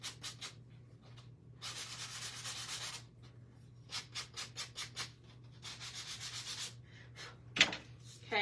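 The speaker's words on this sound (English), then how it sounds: "All right, let's sand this." A wooden scarecrow craft piece is sanded by hand with a 12-inch sanding tool in steady back-and-forth strokes, close and fairly loud, pausing briefly between bursts with no talking.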